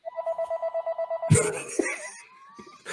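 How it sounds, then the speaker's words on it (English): A telephone rings in rapid repeated electronic trills inside a writing room, then breaks off into a burst of clatter and voices talking. "Can we turn off the phones in the writing room, please?"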